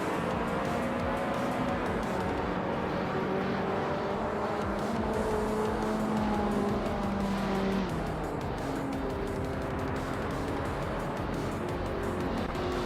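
Race cars in a video game race, with a continuous loud engine roar, whining pitch shifts as cars overtake and pass, and occasional tire squeal throughout.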